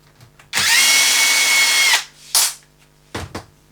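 A cordless drill/driver spins a screw on an RC car with one loud, steady whir of about a second and a half, then two short bursts of the motor, close and clear with no talking.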